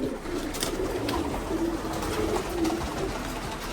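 Pigeons coo steadily inside a coop, their low, rolling calls overlapping continuously at close range with no one speaking.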